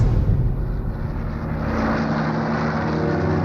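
Hawker Typhoon fighter-bombers flying over a World War II tank battle, a steady loud propeller-engine drone that holds for several seconds without talk.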